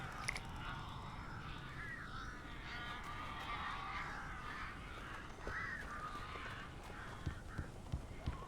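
Crows cawing in the game Alan Wake Remastered, harsh repeated calls scattered over a low rumbling ambience, fairly faint with a few sharper bursts near the end.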